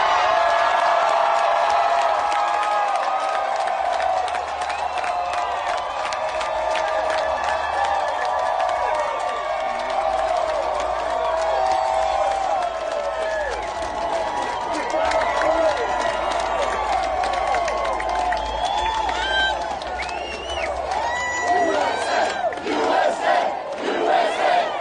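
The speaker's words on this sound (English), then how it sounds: "That's quite a crowd" A large crowd at a political rally cheers, whoops and shouts continuously, a dense roar of many voices with scattered applause that stays loud throughout and rises into excited bursts near the end.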